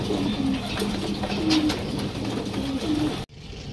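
Racing pigeons coo in low, repeated throaty phrases against a steady background hiss, the calls close and continuous before cutting off abruptly near the end.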